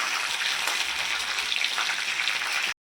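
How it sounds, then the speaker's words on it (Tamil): A green chili frying in a pan of hot oil alongside mint, coriander and curry leaves for mint masala puffed rice, giving a steady, dense sizzle at close range that cuts off abruptly, with no talking. "ஒரு பச்சை மிளகாவை இதிலே போட்டு வறுத்துக்கலாம்"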